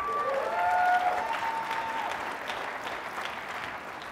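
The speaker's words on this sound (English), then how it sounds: "Yeah, let's clap." A crowd claps together in a large hall, a continuous, even roar of applause that starts strong and tapers slightly, with faint tonal sounds briefly audible early on.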